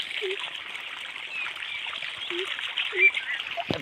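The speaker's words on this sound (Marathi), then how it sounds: "आता मग पाणी असं जायला लागलं बघा" A low, steady gurgle of water running along a field channel, with a couple of short chirps and a splash near the end.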